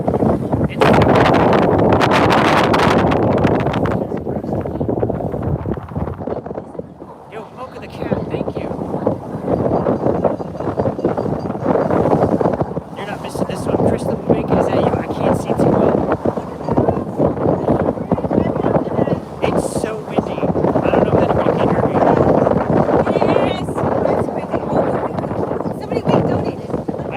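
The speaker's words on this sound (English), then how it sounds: "Oh my god, it's so windy." Strong wind buffets the microphone on the Golden Gate Bridge in San Francisco, a loud, continuous roar and rumble with gusts throughout, while people talk over it.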